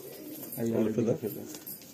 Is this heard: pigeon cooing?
yes